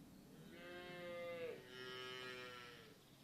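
A cow in Train Sim World 2 gives one long, drawn-out moo lasting a few seconds, fairly clear against quiet open-field background.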